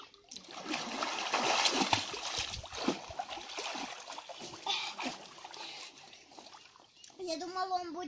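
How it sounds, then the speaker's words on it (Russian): Water sloshes and splashes in a newly bought backyard swimming pool as someone stirs it up from the bottom, close and irregular, with voices chatting around it. "Антоха, короче, взбалтывает воду"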